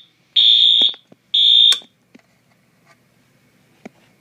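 Home alarm system siren sounding two loud, shrill, steady electronic blasts of about half a second each, followed by a few faint clicks and near silence.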